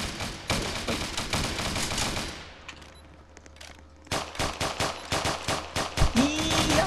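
Rapid automatic gunfire in the Roblox game Prison Riot, loud dense bursts of shots that pause briefly and then resume in fast volleys, with no voices.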